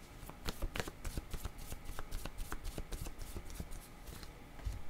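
A deck of tarot cards is riffled and shuffled by hand in rapid, crisp flutters of snapping card edges, close and fairly quiet, with no talking.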